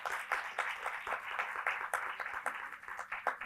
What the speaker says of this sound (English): please give a very big applause